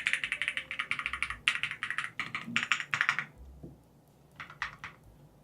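Clacky bursts of typing on an Epomaker Tide budget aluminum mechanical keyboard without case foam, a dense run of keystrokes fading to scattered single presses, heard close with no voices.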